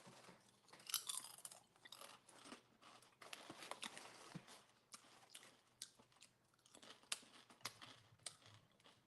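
Sour cream and onion kettle chips are chewed close to the microphone, with repeated sharp crunches and brittle crackling bites in an irregular rhythm. The sound is quiet and intimate, with no speech.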